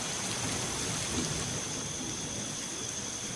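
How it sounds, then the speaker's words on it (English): Steady, heavy rain hisses without a break, with a low rumble of thunder folded into the downpour. "You hear the thunder outside?"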